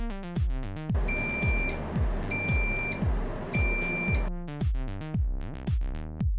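An Interceptor biosafety cabinet's low-airflow alarm, triggered when airflow drops below the specified feet per minute, beeping in repeated bursts of high, steady tones, laid over a synthetic tone pattern with a regular pulsing rhythm.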